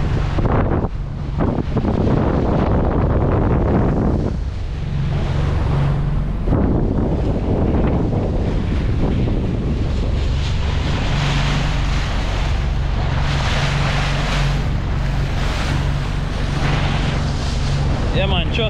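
Wind and sea surf buffet a fishing boat out on deep open water off Pedro Bank, a loud, constant roar with heavy wind rumble on the microphone and a voice speaking beneath it.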